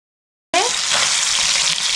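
Pieces of rui fish dropped into hot oil in a pan, bursting into a sudden loud sizzle that holds steady and close for the rest of the moment.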